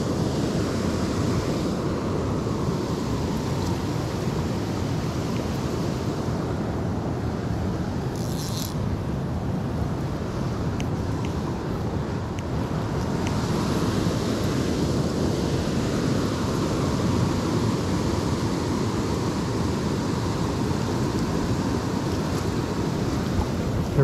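Flowing river water while fishing: a steady, broad rushing wash close by that holds level throughout, with a brief faint high tick partway through and no talking.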